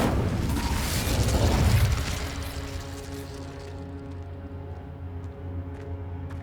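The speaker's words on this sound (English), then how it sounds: "Incendio!" Incendio fire spell in Hogwarts Legacy, a loud whooshing burst of flame for about two seconds that drops away into a lingering low hum with faint mechanical ticks.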